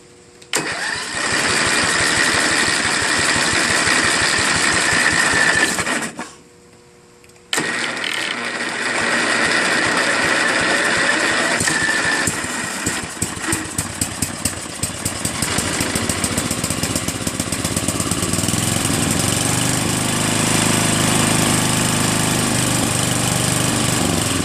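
A Craftsman LTV10 VariDrive lawn tractor engine, freshly fitted with a replacement carburetor, runs loud and close after starting, with a brief cut partway through before settling into a steady, slightly uneven idle with rattling mechanical ticks.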